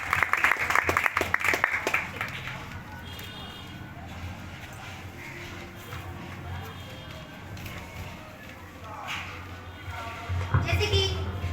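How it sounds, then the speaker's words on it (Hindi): An audience of NSS volunteers at a legal awareness session claps in a short burst of applause, which fades under someone speaking and swells again briefly near the end. "ताली और बजाओ ना"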